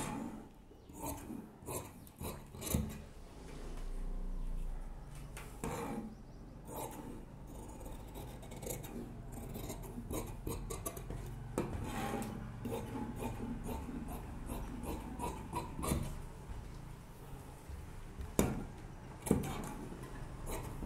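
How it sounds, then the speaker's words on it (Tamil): Scissors cut through fabric for a 38-inch churidar at a tailor's table, giving repeated close scraping and snipping rasps with soft rustling of cloth, no speech over them. "இதை நான் கட் பண்ணிடுறேன்."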